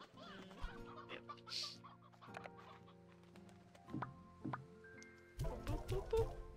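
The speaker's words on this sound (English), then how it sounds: "How many chickens? We got quite a few chickens." Chickens in the Slime Rancher 2 video game cluck in short, soft bursts against quiet game music, with a louder flurry of clucks near the end.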